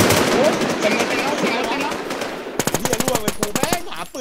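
Gunfire in the survival shooter game Infestation: noisy combat at first, then crisp rapid automatic bursts in a fast regular rhythm, close and loud, with excited voices talking over it.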